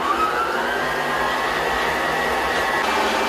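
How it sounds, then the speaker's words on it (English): Electric mixer creaming vegetable shortening into buttercream, a steady, even motor whir that stays loud and close from start to finish with no talk over it. "I'm going to be creaming it until it is soft and white"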